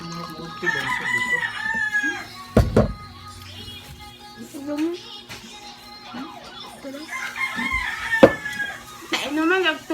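Chickens cluck and a rooster crows close by in a rural home setting, bursts of clucking and a loud crow rising over steady background, with people talking throughout.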